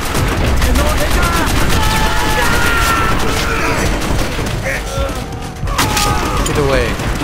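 Heavy gunfire in the World at War game campaign, with rapid bursts and machine-gun fusillades layered under booms and clanking mechanisms, loud and continuous with brief voices mixed in.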